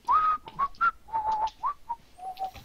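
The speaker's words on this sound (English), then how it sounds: "I'm whistling." Someone whistles a short, wavering tune in a series of clear, bright notes with brief pauses between them, close and fairly loud.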